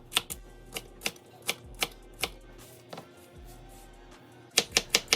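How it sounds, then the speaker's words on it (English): Celery stalks are chopped with a knife on a board, a series of crisp, separate thuds at an uneven pace, ending in a quick burst of four close cuts. "Now we want to medium chop our 2 celery stalks."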